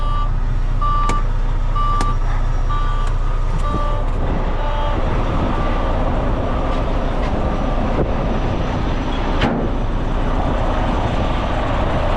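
A truck's reversing alarm beeps in a steady, evenly spaced series over a loud rumbling engine, then fades as the idling drone carries on with a few clanks.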